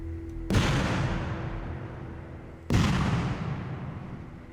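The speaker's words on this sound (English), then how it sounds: "And this charge here is used to destroy that equipment." Two heavy demolition charges detonate during Army Ranger training, destroying equipment after an ambush; each is a sudden loud blast with a long rumbling decay, the second following about two seconds after the first.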